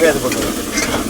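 Chopped onion is stirred and fried in a pan with garlic and green chilies over low heat, giving a steady close sizzle with scraping stir strokes and no talking.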